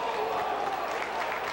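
A large stadium crowd of over 20,000 at a 1995 Paulistão A2 football match, Botafogo against São José, applauds a player being substituted; the steady, distant wash of clapping and crowd noise fills the short moment, with a voice talking over it.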